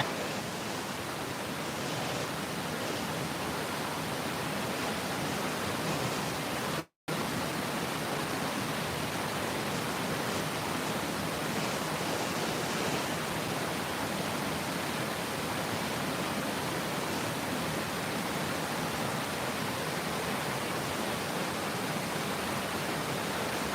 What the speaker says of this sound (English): what you hear when I'm not speaking is just waterfall